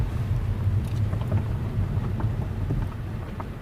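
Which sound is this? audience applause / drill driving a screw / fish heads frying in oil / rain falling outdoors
rain falling outdoors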